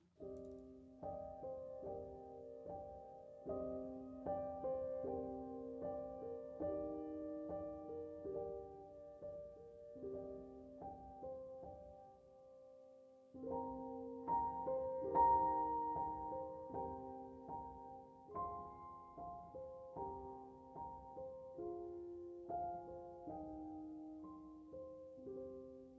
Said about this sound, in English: Our second loop is a piano solo, very soft.